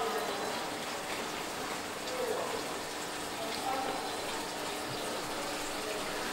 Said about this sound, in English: you can see the cloudy water that's coming up through the gravel vac